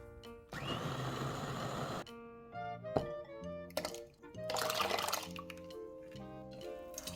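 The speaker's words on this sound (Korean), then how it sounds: "물 한 컵 붓고 너무 곱지 않게 좀 입자가 살아있게 갈아줍니다" A blender coarsely grinds halved, seeded red chili peppers with a cup of water for water kimchi. Two short whirring bursts, about a second or so each, rise over quiet background music.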